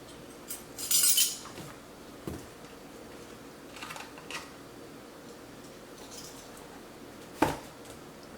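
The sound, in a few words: measuring spoon clinking while measuring baking soda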